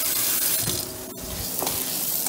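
Hot water running from a tap into a sink in a dorm kitchen, a continuous hissing splash with small shifts in flow and a brief clatter midway; nobody speaks.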